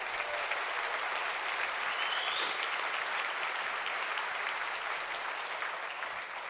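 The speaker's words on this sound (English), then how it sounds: "Let's give him some applause." An audience at the SUSECON 2019 keynote applauds for Roger Dillis with steady, sustained clapping from a large crowd, even in loudness throughout and somewhat distant in a big hall.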